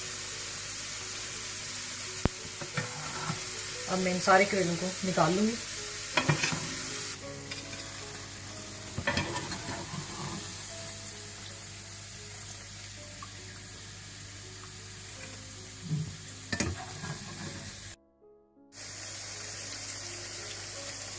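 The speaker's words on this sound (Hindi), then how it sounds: "इस तरह से आपने सारे करेले तल लेने हैं।" Steady frying sizzle of bitter gourd in oil in a pan, with occasional stirring clatter and a tap running briefly; someone speaks over it.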